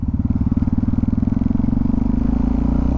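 A Yamaha MT-07 motorcycle engine rumbles loud and close, its throbbing beat quickening steadily as the revs climb.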